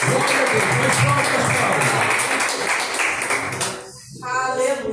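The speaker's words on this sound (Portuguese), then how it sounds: "vamos receber o Senhor de Deus com palmas, bem forte as palmas para o Senhor Jesus" A church congregation claps hands strongly in rapid, continuous applause during a worship service, with a voice speaking over it. The clapping fades briefly near the end and then resumes.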